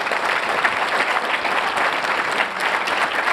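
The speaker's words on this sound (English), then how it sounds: "Everyone can give a round of applause for this." A large audience applauds after a panel discussion on cyberthreats, producing a thick, sustained roar of many hands clapping, loud and even throughout with no pause.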